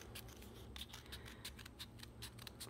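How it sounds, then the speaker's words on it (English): Scissors cut a circle out of cardboard with a quick series of crisp snips in an uneven rhythm, close and quiet. "So I'm cutting out this circle"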